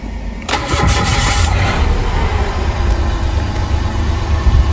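A car engine cranks and fires up loudly, then settles into a steady, close idle rumble that continues to the end.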